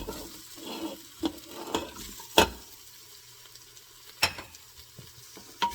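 Cut potatoes and vegetables stirred in an Instant Pot for vegetable biryani: a low sizzle runs underneath while a spoon scrapes and clicks against the pot in several sharp, separate knocks.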